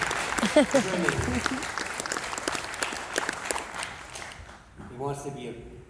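Expo crowd applauding as an investor walks onto the stage, a dense wash of clapping with a speaking voice over it, the clapping thinning toward the end.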